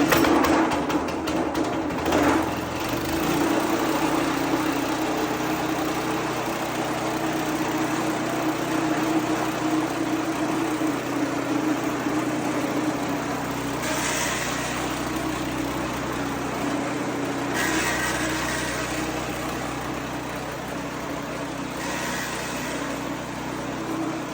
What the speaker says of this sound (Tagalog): Ito yung order niya sa atin na shredder machine. Powered by Bridge and Stratton po.